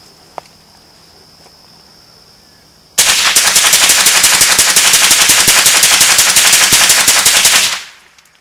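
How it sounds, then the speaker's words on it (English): A Colt Umarex M4 .22 rifle fires 25 rounds in a rapid, loud, evenly spaced burst lasting about five seconds after a quiet start, then stops abruptly. "Here's the Colt. Rapid fire, 25 rounds, just to see how it compares."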